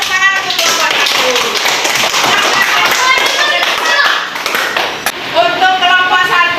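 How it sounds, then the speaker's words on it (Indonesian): Classroom audience of children and teacher claps for a group in bright, sharp bursts, loud and close, with voices talking and calling out over the clapping. "Tepuk tangan untuk kelompok 1."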